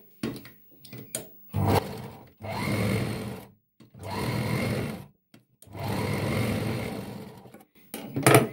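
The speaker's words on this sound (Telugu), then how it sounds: "ఇప్పుడు క్యాన్వాస్ని దీనిపైన స్టిచ్ చేసుకుందామండి." A sewing machine stitching canvas onto cloth for a boatneck blouse, running in three sustained whirring bursts of about a second each, separated by pauses and a few short knocks and clicks, close by, no speech.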